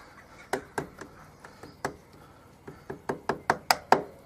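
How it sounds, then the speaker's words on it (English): Sharp metallic knocks of a flat-head screwdriver striking a motorcycle chain's split link on a Lexmoto ZSX 125, about fifteen close taps in an uneven rhythm that speed up and grow louder toward the end. "then just knock it off with a flat-headed screwdriver"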